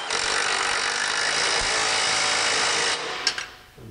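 An impact gun tightens a steering rack bolt during chassis assembly for a 1955-1959 Chevy or 1948-1956 Ford, giving a loud, continuous buzzing rattle for about three seconds before stopping, followed by a couple of brief clinks.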